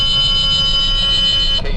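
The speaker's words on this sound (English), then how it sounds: "sorry about the alarm there" An alarm sounds near the Kent Police Building in downtown Kent, Ohio, a loud steady electronic tone that holds unbroken and cuts off just before the end.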